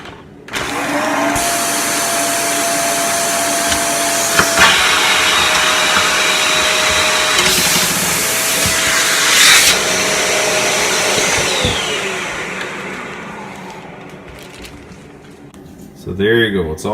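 A vacuum cleaner draws air out of a vacuum sealer bag, a loud steady motor whine holding for about eleven seconds, its pitch shifting as the bag tightens, then fading before a brief burst at the end.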